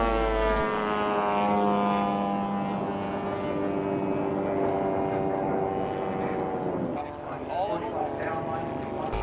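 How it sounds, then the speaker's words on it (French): An Edge 540 aerobatic airplane at a 1998 aerobatic championship holds a loud, steady propeller-engine drone that shifts sharply in pitch near the end as the plane changes attitude. "Quant à son avion, il ne s'agit ni d'un laser ni d'un Extra 260, c'est un Edge 540,"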